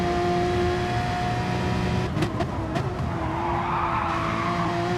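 A Porsche race car in a racing video game slides sideways on the Nürburgring GP circuit, its steady engine drone joined by a brief tire squeal and scrubbing noise mid-slide, with no voices.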